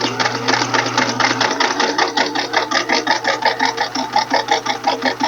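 Close, loud sewing machine stitching quilt pieces right to the edge, a fast rhythmic needle chatter running continuously with a steady motor hum underneath.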